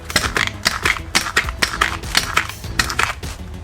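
Rubber squeaks from a twisting balloon held firmly and squeezed to push out a bubble: a dense run of close, scratchy squeals and creaks in uneven bursts with no voices.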